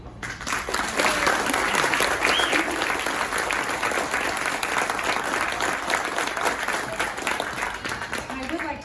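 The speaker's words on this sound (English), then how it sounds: "everyone, a round of applause for Lorraine" An audience applauds Lorraine García-Nakata at the unveiling of her mural at Casa Adelante, a dense, steady wash of clapping lasting throughout, with a voice briefly audible over it.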